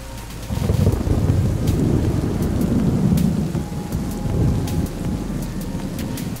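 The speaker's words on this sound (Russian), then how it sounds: "Когда гром и молния недалеко, то слышится один раскат." Deep thunder rumbles and rolls continuously under steady heavy rain, loud and close, with a low grumbling swell that slowly fades.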